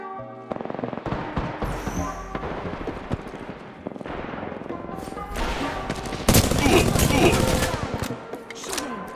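Gunfire in the video game Apex Legends, with bursts of automatic weapon fire and heavy blasts rolling over one another, loudest and densest toward the end, while in-game character voice lines sound underneath.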